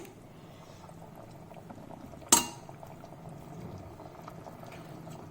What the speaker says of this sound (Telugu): చూడండి మన వేడివేడిగా నాటుకోడి పులుసు ఉడుకుతూ ఉందండి.